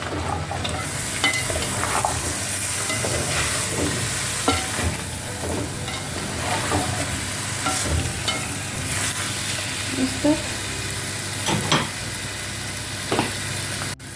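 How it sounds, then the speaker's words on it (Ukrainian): Onion and carrot fry in a pan while being stirred, giving a steady close sizzle with scattered scraping strokes and no voices. "Добавляем цибулю. Добавляем моркву. И перемешиваем."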